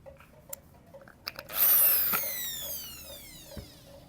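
A power drill spinning a brush while polishing scratches out of a bike fuel tank: after a few clicks, the motor whines up sharply, holds a high, steady spin, then winds down with a falling pitch.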